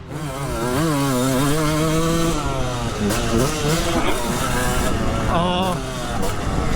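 A 1996 two-stroke 250 motocross bike engine, a factory Honda CR250 or Suzuki RM250, revs loud and close, its pitch sweeping up and down through repeated throttle blips as a voice talks over it.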